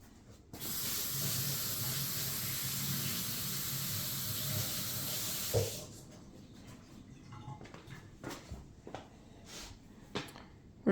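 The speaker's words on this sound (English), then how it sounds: "I'm going to rinse this off real quick" Water runs steadily from a kitchen tap for several seconds, rinsing off a faucet part, then stops, leaving faint clicks and handling noises.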